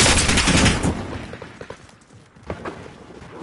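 Rapid video game gunfire, a dense burst of loud shots at the start that thins into scattered, quieter cracks, followed by a few more sharp reports near the end.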